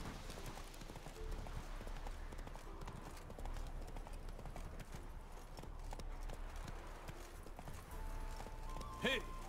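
Horse hooves clip-clop in The Witcher 3: Wild Hunt, a steady close trotting rhythm throughout, with a whinny right at the end and faint game ambience underneath.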